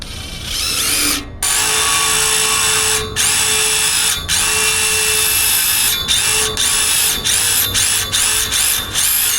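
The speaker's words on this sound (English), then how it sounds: "drill out our 1/4 inch hole." A power drill fitted with a hole saw cuts a 1/4 inch hole, whining loud and close in long steady bursts, then stopping and restarting in short pulses toward the end.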